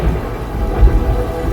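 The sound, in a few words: thunderstorm with thunder and rain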